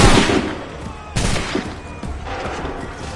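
Blaster and gunfire from the video game Star Wars Outlaws, with a dense burst at the start followed by several sharp shots and a lingering battle din.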